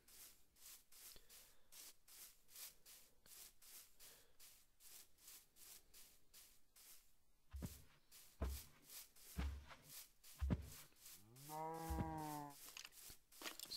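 Faint rhythmic scraping ticks repeat throughout, then a single cow moo rises near the end, quiet and slightly synthetic, in Minecraft.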